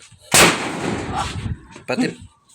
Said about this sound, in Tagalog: Pati ang paputok na yan.